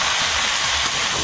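Shrimp and crab sizzle loudly as they drop into hot oil alongside fried potatoes in an outdoor Sundarban-style cooking setup, a steady, dense hiss lasting throughout with no talk.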